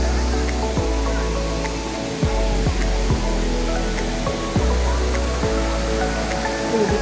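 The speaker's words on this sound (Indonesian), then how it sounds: "Kita sekarang mau menuju air terjun." A waterfall in Hong Kong Park makes a steady broad rush of falling water, continuous and moderately loud, with faint scattered knocks or footsteps in the background and no talk.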